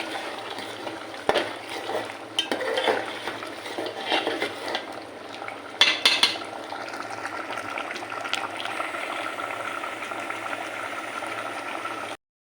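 Beef curry being stirred in a pot, with a steady bubbling, simmering hiss and occasional scrapes and clinks of the spoon against the pot, fairly close and without voices.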